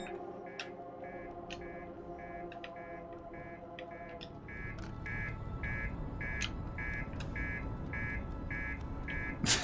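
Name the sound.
annoying buzzer alarm in video game Outer Wilds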